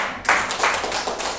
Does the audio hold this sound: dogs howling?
no